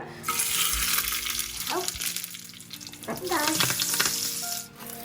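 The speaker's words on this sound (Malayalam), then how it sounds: "കൂട്ടത്തിൽ കുറച്ച് കടുകും കൂടെ വറുത്തിടുന്നുണ്ട്." Oil sizzles and crackles steadily as mustard seeds and dried red chillies fry, with a few clinks and scraping stirs in the pan, fairly close.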